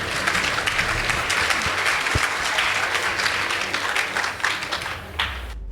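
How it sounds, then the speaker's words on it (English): A school debate audience applauds after the scores are announced, with loud, continuous, dense clapping that fills the hall before tapering near the end. "Please give them a round of applause."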